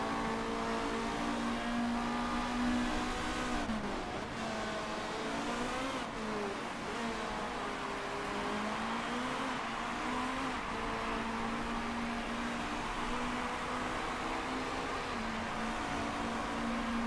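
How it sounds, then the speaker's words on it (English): Race cars in the Motorsport Manager video game at Rio de Janeiro roar continuously, with layered engine whines rising and falling as cars pass and head into the pits, loud and steady without talk. "Here comes some more cars into the pits."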